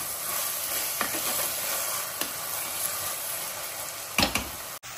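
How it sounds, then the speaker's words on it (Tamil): Tomato and onion sauté in a pan with a continuous bright sizzle, broken by a few sharp stirring scrapes and clicks, close and without talk. "தக்காளி வெங்காயம் சேர்ந்து வதங்கிடுச்சு"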